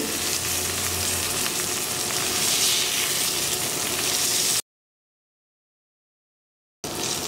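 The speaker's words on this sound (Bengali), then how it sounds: "আমি আরও কিছুক্ষণ বেগুনগুলোকে ভেজে নেব" Eggplants frying in a pan, a steady close sizzle and crackle that runs for several seconds, drops to complete silence, then resumes briefly at the end.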